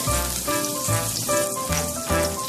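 Chopped onion hits preheated oil in a frying pan for a mushroom sauce, giving a steady, close crackling sizzle with small surges, while a faint tonal background runs underneath.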